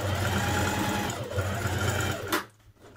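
A sewing machine stitches a sweatshirt seam, running steadily with a rapid mechanical whir and clatter, close and loud, briefly slowing near the middle before stopping abruptly near the end.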